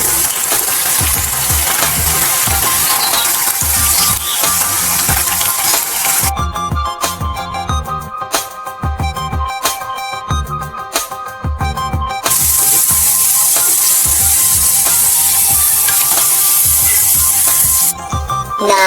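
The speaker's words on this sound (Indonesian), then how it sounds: "Goreng kentang dengan api besar sambil sesekali diaduk agar tidak gosong." Steady crackling sizzle of potatoes deep frying in hot oil over high heat, continuous and close, with a few clinks of a utensil stirring and tapping in the pan.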